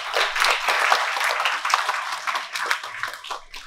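Audience applause at a school prize distribution ceremony honoring a student's artwork, a dense burst of many hands clapping steadily for a few seconds with faint voices beneath.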